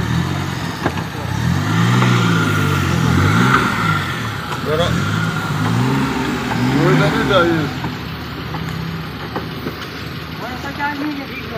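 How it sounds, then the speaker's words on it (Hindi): A car engine runs steadily beneath continuous overlapping talk; the car had been in an accident and was being checked by a mechanic before being driven. "ये माशाल्लाह जी अभी गाड़ी को स्टार्ट करके हम लोग चोइयाँ लेके जा रहे हैं।"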